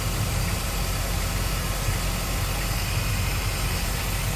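A 2006 GMC Sierra 1500 regular cab pickup with a 4.8L V8 and automatic transmission idles steadily, a close, even engine rumble with no change in speed and no talking.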